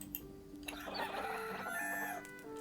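Chickens in the farming game Clanfolk cluck and crow, a short burst of layered fowl calls rising and falling over quiet background music.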